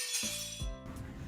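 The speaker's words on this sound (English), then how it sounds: "Breaking the Glass." A glass-breaking sound effect: a sharp crash followed by tinkling, ringing shards that scatter and fade over about a second, loud and isolated.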